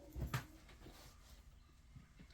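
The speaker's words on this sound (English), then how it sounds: "Dog next door." A neighbouring dog gives a short bark or whimper early on, then quieter faint sounds follow against a low, calm background.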